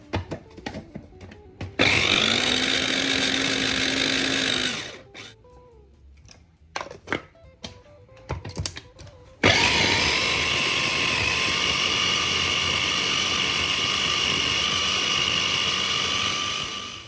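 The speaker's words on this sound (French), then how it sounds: "Je vais mixer le poivron jaune et le poivron rouge." A blender whirs loudly and close while mixing yellow and red bell peppers, running in a steady high-pitched roar, pausing for a few seconds of clatter, then starting again and continuing to the end.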